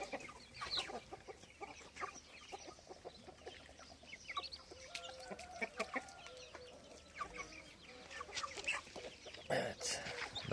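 A mother hen clucks and scolds as she chases other birds off the feed in a village farmyard, with scattered rapid clucks and flurries of movement, fairly close and quite quiet overall.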